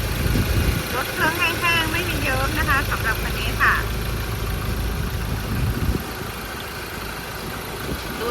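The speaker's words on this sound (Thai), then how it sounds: "อ่า นี้ตอนนี้สตาร์ทเครื่องยนต์อยู่นะคะ" Under the open hood of a 2012 Mazda BT-50 four-door Hi-Racer pickup, the engine idles with a steady, close rumble while someone talks over it for the first few seconds.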